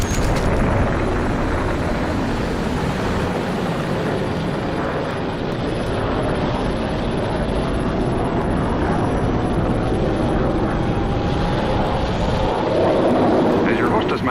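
Old Saturn-series rocket launch effect from a moon-flight theme park attraction, a dense continuous roar filling the whole stretch at steady loudness, with someone talking over it.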